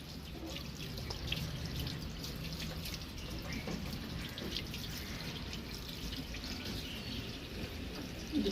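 Water runs steadily from a tap during washing with soap, a continuous close splashing and trickling with faint dripping, alone and without talk.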